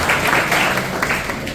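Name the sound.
audience clapping at a campus event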